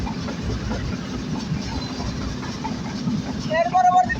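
Dhumketu Express passenger train crossing the old Jamuna rail bridge, heard from on board as a steady low rumble of wheels and carriage noise, with a brief high squeal near the end.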